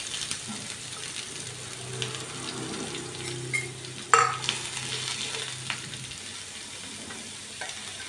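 Chopped onion dropped into hot oil and stirred for an egg curry gravy, a steady close sizzle with scraping stirs and one sharper clatter midway, no voices over it.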